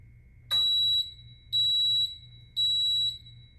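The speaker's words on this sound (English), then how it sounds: "those 3 beeps let us know that it's done" Three identical high electronic beeps from a Toshiba AC25CEW-BS toaster oven, evenly spaced and each about half a second long, ring out clearly over a faint low hum.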